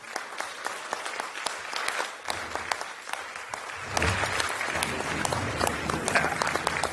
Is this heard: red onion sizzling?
no